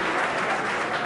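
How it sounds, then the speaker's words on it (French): A crowd at a French quiz show final claps in a dense, steady burst that fills the short moment without any voice over it. "Applaudissez-les très très fort."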